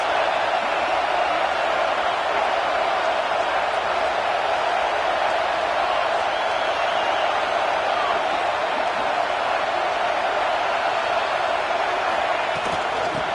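Stadium crowd at a football game, a dense, constant roar filling the whole stretch at high volume, steady with no lulls or distinct cheers standing out.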